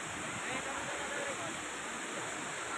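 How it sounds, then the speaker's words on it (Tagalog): Rushing water of Daranak Falls, a waterfall in Tanay, Rizal, a steady broadband roar that fills the whole clip at an even level, close and continuous. "naririnig nyo na yung agos ng tubig"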